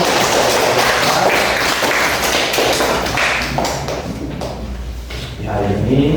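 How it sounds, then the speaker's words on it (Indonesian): Classroom applause for a student's answer during a linear equations lesson: dense, sustained clapping from many hands, loud and close, tapering slightly toward the end. "Ya, kita memberikan tepuk tangan."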